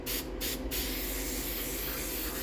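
Aerosol carburetor cleaner sprayed in two short hissing bursts near the start, close and loud, while working on Triumph TR6 seat covers, followed by a softer lingering hiss.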